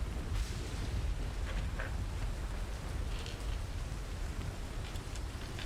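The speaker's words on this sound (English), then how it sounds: "It is still raining, and it is still raining something fierce." A rain sound effect plays during a tabletop role-playing session, a dense, steady roar of heavy rain falling hard, loud and continuous with no voices over it.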